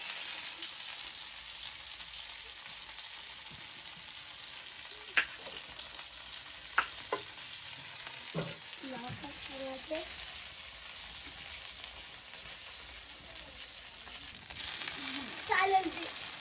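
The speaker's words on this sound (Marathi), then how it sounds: "तेलाचे चटके खूपच उडतात." Chicken fries in hot oil over an outdoor village fire: a steady, fairly quiet sizzle runs throughout, with scattered pops and clinks, and voices murmur faintly near the end.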